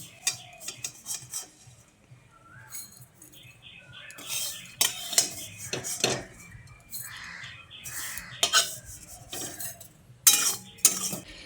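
Ghee-fried vermicelli being scooped out of a wok with a metal spoon, a series of scraping, clinking strokes against the pan, close and moderately loud, with no talking.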